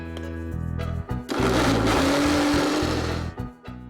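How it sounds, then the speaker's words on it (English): A blender starts, whirs loudly for a couple of seconds as it grinds dry chocolate sponge cake into powder, then slows and stops, with brief pulses before and after. "first I'm going to grind it in the blender"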